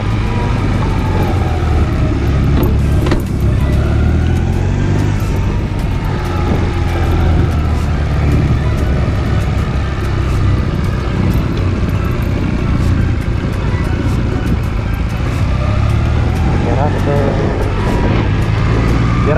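A car engine runs loud and steady during driving practice on a training course, a constant low rumble close to the listener throughout, with some talk faintly beneath it.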